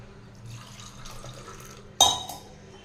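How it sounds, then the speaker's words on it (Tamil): Faint room noise gives way to a sudden splash of about one and a half tumblers of water poured into a pot for fenugreek masala tea, a brief loud gush that quickly tapers off. "இந்த டம்ளரில் நம்ம ஒன்றரை டம்ளர் தண்ணி சேர்த்திக்கலாங்க"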